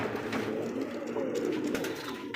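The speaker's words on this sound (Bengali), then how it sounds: "দেখতে পাচ্ছি লাল টকটকে একজোড়া কিন্তু বোম্বাই কবুতর" Bombay pigeons cooing at a pigeon farm in Bangladesh, a steady low murmur of overlapping coos close by, continuous throughout with no voices.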